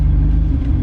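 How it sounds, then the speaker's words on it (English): A Nissan Skyline R34 GTR M-Spec Nur engine rumbles at low speed as the car drives on a test run. The steady, loud drone continues throughout with no voices. "we're driving an R34 GTR at the moment"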